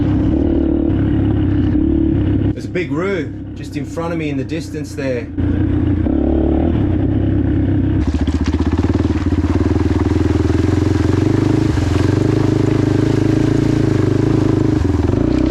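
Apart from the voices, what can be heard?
motorbike engine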